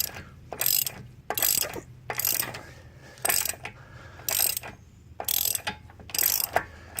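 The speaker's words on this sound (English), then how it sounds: "I wanted to take a moment to brag on this ratchet I'm using here" A hand ratchet snugs down bolts on a 2013 Hyundai Sonata 2.4L during an engine and transmission swap, with bursts of fast clicking in about seven close, evenly spaced strokes and quiet pauses between them.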